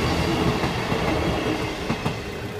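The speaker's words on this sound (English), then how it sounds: "There is a train." A passenger train, likely running between Fishguard and Swansea, rumbles steadily past close by at the Whitland level crossing in West Wales, with a continuous loud roar and faint rhythmic wheel clatter.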